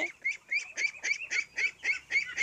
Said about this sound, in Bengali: এই যে হাঁসগুলোকে আমি ধান খাওয়াইতেছি, এই যে দেখেন ধান দিয়ে রাখছি